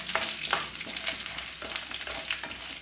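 Chopped garlic and a piece of ginger sauté in hot oil in a pan for onion chutney, a continuous close sizzle punctuated by regular scraping clicks of stirring.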